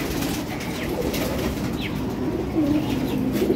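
Breeding pigeons in a loft give soft, low cooing near and faint, with light rustling of feathers under steady background noise.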